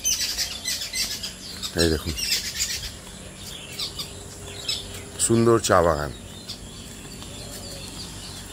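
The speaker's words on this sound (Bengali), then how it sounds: "আর অনেক পাখি ডাকছে, চারিদিকটা খুব নিরিবিলি।" Birds call around a quiet tea garden beside a resort, bright chirps scattered through the clip with a few louder calls standing out, while a person talks over them at two points.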